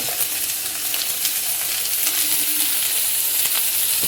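An onion, tomato and coconut masala sautés in a kadai with a loud, dense and continuous sizzle, with light stirring flicks scattered throughout.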